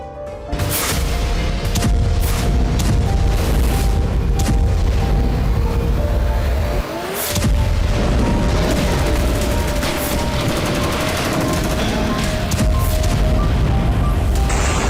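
Explosions from a heavy Russian missile attack in Kharkiv, with loud, dense booming and rumbling that runs continuously, sharp blasts at the start and around the middle, and a mechanical drone underneath.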